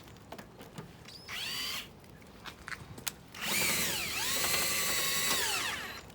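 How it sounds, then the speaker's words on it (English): A power drill with a corner steady bit winds a caravan's corner steadies, whirring in two bursts, a short one then a longer sustained run, with faint clicks and handling noises between. "I tend to use a drill with a corner steady drill bit."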